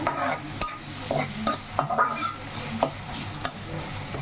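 A spoon stirs dry fish curry frying in a pan, with a steady close sizzle and scraping strokes against the metal at an irregular rhythm, no voices.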